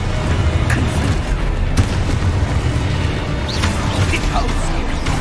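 Repeated fire-blast spell explosions from Confringo in the Hogwarts Legacy video game. Dense booming bursts and crackling impacts layer over each other in loud, continuous combat noise.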